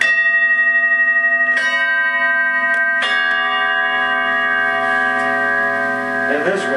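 A four-bell Armenian altar chime rings out with bright, sustained metallic tones, struck in three clear strikes that overlap and linger, with a faint jingle near the end.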